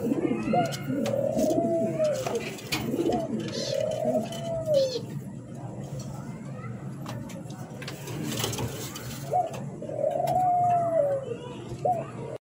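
Pigeons coo in repeated low, rolling phrases, with white and red Lahori pairs kept in a bird-selling setting. The calls come close and clear about every three seconds over steady background chatter and a faint hum.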